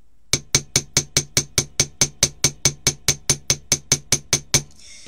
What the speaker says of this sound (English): Now, when I say gently hammer, I do mean gently hammer.